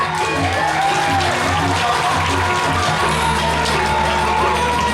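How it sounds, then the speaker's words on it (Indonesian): Crowd applause at a Balinese arts festival performance, clapping spread across a large audience mixed with background music tones and ambient noise, fairly loud and continuous. "Nah, tepuk tangan."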